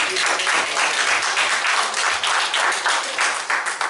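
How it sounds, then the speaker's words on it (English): A church congregation claps hands in praise, a dense, continuous burst of many people applauding together at close range, steady and loud throughout. "let's give the Lord a hand clap of praise"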